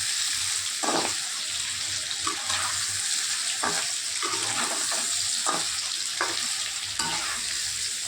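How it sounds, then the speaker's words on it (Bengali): Raw mango pieces stirred in mustard oil in a wok, with a steady low sizzle of frying under repeated scraping strokes of a spoon against the pan, several distinct stirs spaced across the span. "কড়াই আমি সর্ষের তেল দিয়েছি, আমের টুকরোগুলো দিয়ে দিয়েছি। এইভাবে নাড়াচাড়া করে নেব তেলের ওপরে আমগুলো।"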